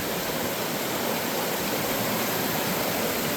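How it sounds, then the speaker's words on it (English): A small waterfall and cascades on a forest trail produce a loud, steady, broadband rush of falling water, close by and unbroken, with no voices. "A little waterfall up there."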